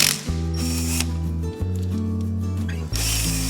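A ratchet wrench with an 8mm socket loosens the oil filter cover on a Benelli TnT 135 motorcycle, a close, steady buzzing clicking in continuous strokes with brief pauses between pulls.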